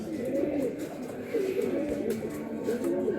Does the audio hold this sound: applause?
no